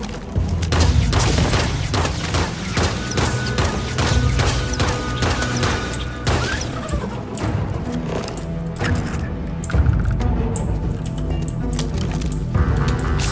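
Rapid bursts of gunfire and booming impacts from shooting at creatures in the space game Starfield, dense and loud throughout over a layered, rumbling game soundtrack.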